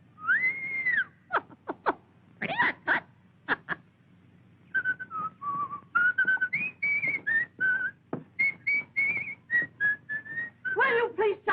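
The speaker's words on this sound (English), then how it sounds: "When can a man whistle?" A man whistles in short staccato bursts and a few sustained pitched notes, close and clear, with brief gaps between phrases, from a 1938 drama.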